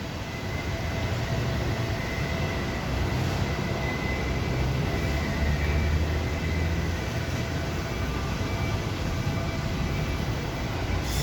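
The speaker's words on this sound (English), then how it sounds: "we're just about to board a train here to go to Makkasan railway station" Steady rumble of a train heading to Makkasan railway station in Thailand, a continuous low drone with rail noise held at an even level throughout, no voices.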